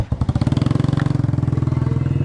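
A motorcycle engine runs close by with a loud, steady, rapid pulsing beat that holds even throughout, with no other sounds over it.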